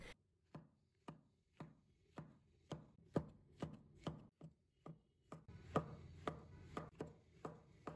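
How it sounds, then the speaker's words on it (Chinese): A knife slicing fresh shiitake mushrooms on a cutting board, about fifteen soft, evenly spaced chopping taps, close and quiet, with no talking. "再准备几朵鲜香菇，切成片"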